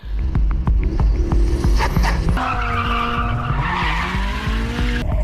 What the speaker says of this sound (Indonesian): Dan Takumi yang udah terpancing kemudian langsung gaspol mengambil alih kemudi.